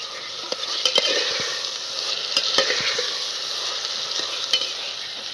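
Masale bhat with turmeric and salt being stirred and fried in a pot: a loud, steady sizzle with sharp spoon clicks and scrapes scattered throughout.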